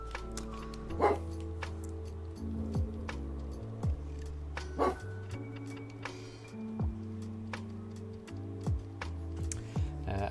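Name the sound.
dog barking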